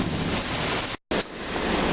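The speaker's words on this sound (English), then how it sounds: "it is raining like the devil's piss outside" Heavy rain pours outside in a dense, steady hiss, loud and even, briefly cut off for an instant midway before resuming.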